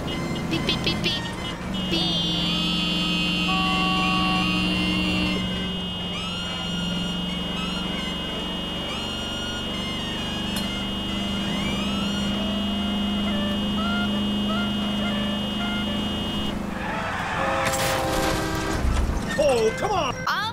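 A car horn in the video game L.A. Noire sounds long, sustained honks over steady engine and traffic noise, with game voices in the background.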